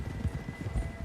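Horse hooves striking the ground at a steady, quick clip-clop while being ridden in a video game, close and clear with no other sounds.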